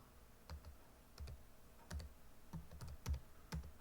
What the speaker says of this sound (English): We're going to push spacebar one time